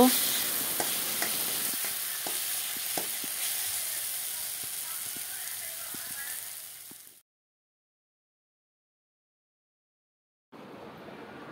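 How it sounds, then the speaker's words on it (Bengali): Spice paste for an egg curry being fried in a pan, a continuous close sizzle with rhythmic spatula scrapes and taps that stops abruptly into silence, then resumes briefly. "সম্পূর্ণ মশলাটাকে ভালো করে কষিয়ে নেব।"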